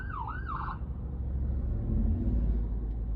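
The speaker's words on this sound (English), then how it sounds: "Hold on, I just seen an ambulance." An ambulance siren wails in the street, its rising and falling tone clear for under a second before fading into steady traffic rumble and background noise.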